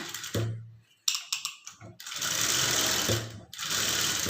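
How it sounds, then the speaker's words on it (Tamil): A sewing machine stitches along the lining edge of a blouse, running in a loud close burst, then a few quick clicks, then two longer steady runs of stitching. "அதுக்கப்புறமா ஹெஜ்ஜிலே வந்து தையல் போட்டுக்குங்க"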